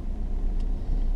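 Peugeot 208 car with a 1.6 engine driving over an uneven road surface, giving a steady close low rumble of engine and tyre noise throughout with no talk.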